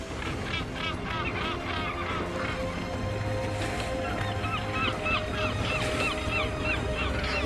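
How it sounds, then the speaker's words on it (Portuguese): A dense chorus of harsh, repeated calls from many northern gannets at once as they dive, steady and busy over a constant background roar. "Os gansos patola mergulham do alto como balas."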